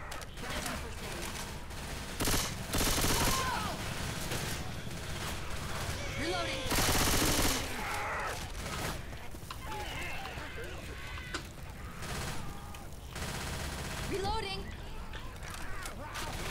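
Video game gunfire from Left 4 Dead 2 in long, dense automatic bursts, loud and continuous, with people talking over the shooting.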